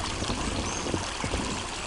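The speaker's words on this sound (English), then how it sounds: "It's like just a nice wee tranquil noise of water running" Running water flows in a constant broadband rush with faint trickling and gurgling detail, close and steady throughout with no voices.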